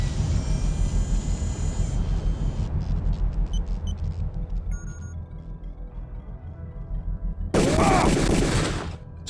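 An automated turret in Deus Ex firing rapid, rattling bursts over a low rumble, with electronic beeps in the pauses and a loud final burst near the end.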